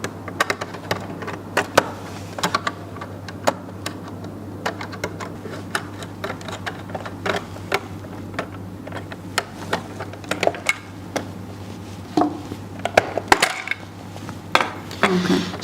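A screwdriver working the front cover off a GD350A drive, a run of small close clicks, taps and plastic ticks in irregular rhythm over a steady electrical hum.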